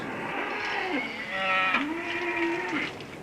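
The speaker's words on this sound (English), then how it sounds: "The cattle are getting restless." Restless cattle low at night, with a couple of loud, close, drawn-out moos rising and falling in pitch, heard alone without talk.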